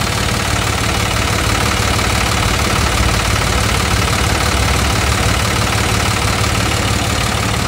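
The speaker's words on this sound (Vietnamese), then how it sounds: "máy nổ rất là êm tay luôn" A Kubota M1-55 tractor, a Japanese import, idles with a steady, smooth, close diesel rumble and a faint knocking texture, running evenly throughout with no voices.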